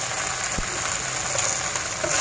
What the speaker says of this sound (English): Just stir fry your onion, white onion, and garlic